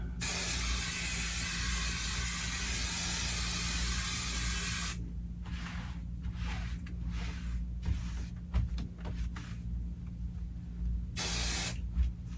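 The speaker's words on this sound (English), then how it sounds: "you just put a little bit more spray" A steady, loud hiss of spray adhesive on a quilt runs for about five seconds, stops, then returns as a brief second burst after scattered rustling.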